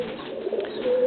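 A Tomprang high-flying racing pigeon gives a short, close, soft throaty coo, a single low murmuring call that swells slightly at the end.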